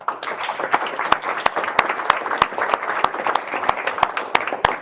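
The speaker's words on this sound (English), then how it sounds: "Let's give everybody one more round of applause" An audience at a Chamber of Commerce county commission political forum applauds, a dense wash of clapping punctuated by loud, evenly spaced claps from someone nearby keeping a steady beat throughout.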